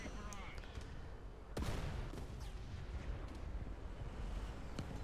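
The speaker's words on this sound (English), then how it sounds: "So now an artillery strike gets on me." An artillery strike lands in War Thunder, a sudden heavy blast followed by a rumbling, crackling wash of debris and scattered sharper impacts, set against constant engine and battlefield noise.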